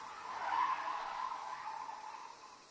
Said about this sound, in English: a car kind of just skid like mad right outside my house